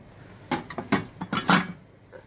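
A metal lid set onto a pot of chicken keema pulao in a rice cooker, with several close, bright clinks and clatters in quick succession over about a second, then a faint final tap.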